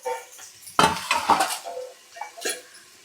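Chicken pieces are stirred in a pot with a metal utensil, giving a few close scraping, clattering strokes against the pan's sides with a soft sizzle underneath, then quieter taps.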